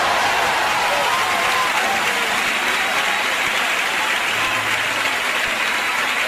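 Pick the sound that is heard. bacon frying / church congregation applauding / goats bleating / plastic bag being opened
church congregation applauding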